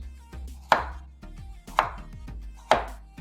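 A knife cuts carrots into thin strips on a board, three sharp close chops spaced about a second apart with softer slicing taps between them, no voices.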